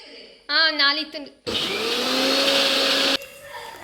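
A mixer grinder whirs loudly for about a second and a half, grinding roasted masala with cashews, then cuts off abruptly; brief talk comes before it.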